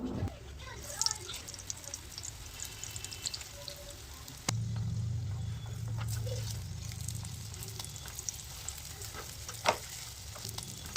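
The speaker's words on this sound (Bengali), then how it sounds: "তো এরপর এগুলোকে গরম তেলে ভেজে নেওয়ার পালা।" Mughlai parathas fry in hot white oil in a frying pan, giving a soft, close sizzle with sharp popping crackles. The sizzle surges louder midway, and scattered clicks of a utensil punctuate it.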